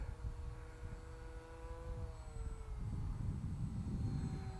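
Electric motor of a homemade foam RC plane at full throttle, a steady high whine with harmonic tones sweeping slightly in pitch over a rumbling low background, continuous and fairly close.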